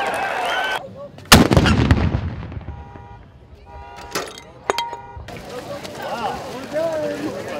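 Ceremonial gunshots open the Bataan Memorial Death March: a loud, close blast that rings out and decays, followed by crowd noise and a second, fainter report, with voices murmuring around it outdoors.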